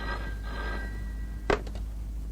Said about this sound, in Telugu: ఆవిడికి ఇప్పుడు నేను ఫోన్ చేయబోతున్నాను.